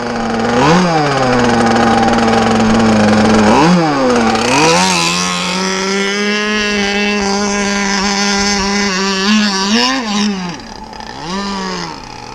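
A small gas engine on a radio-controlled boat runs and warms up, loud and close, with a buzzing drone whose pitch swoops up and down several times as the throttle is blipped, then settles and dips near the end.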